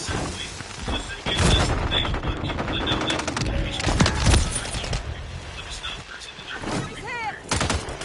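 Bursts of gunfire in the shooter Modern Warfare 3, with sharp reports and a heavy volley near the middle, mixed with mechanical clanks and shouted soldier callouts throughout.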